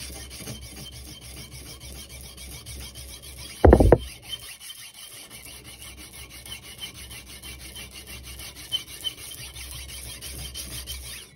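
Sandpaper of 180 grit rasps across a carbon steel knife blade to lift an old patina, a short, loud burst of abrasive scrubbing, with a faint steady background hum before and after it.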